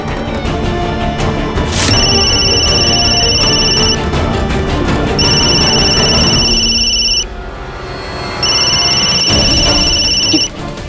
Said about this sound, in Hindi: ये तो बिग बी का रिंगटोन है ना